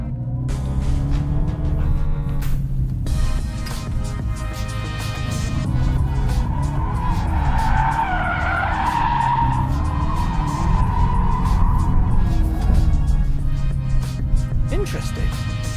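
Tyres skid and squeal as a 2025 Dodge Charger electric car, sending 335 brake horsepower to the rear axle through a limited slip diff, does a donut; the loud wavering screech rises and falls over a low drone, with a voice talking over it.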